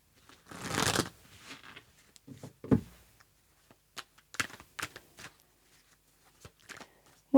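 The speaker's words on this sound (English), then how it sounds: "One more shuffle." A deck of tarot cards being shuffled close up and quietly, a long riffle followed by a series of short, crisp card taps and flicks, with no talking.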